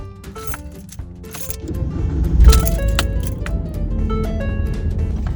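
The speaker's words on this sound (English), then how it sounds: "When you try to start the car, it has a very long delay where it takes 2 times." A 2014 Ford Fiesta with a faulty ignition switch cranks and catches after a long delay, a loud engine rumble building and settling while keys jingle close by.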